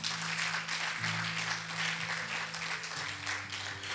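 A church congregation claps together in a steady, dense wash of applause, with sustained low musical tones running underneath.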